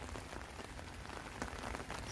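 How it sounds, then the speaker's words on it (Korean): Spring rain patters densely and steadily on an umbrella outdoors, a close, continuous crackle of drops with no talking. "우산 위에 떨어지는 이 봄비 소리를 배경음악 삼아 시작해 보도록 하겠습니다"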